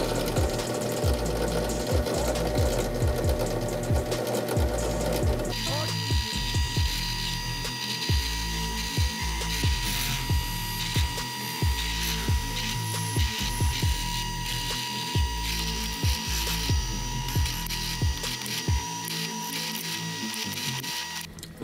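A machine drills a run of holes in metal parts for a mailbox flag holder, sounding as a close, continuous mechanical whir with a rapid, regular ratcheting clatter that steadies after a shift in tone partway through.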